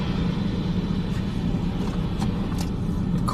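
A car drives past on a road during a winter storm, a steady broadband rush of tyres and engine that stays loud and close for the whole stretch, with no talking.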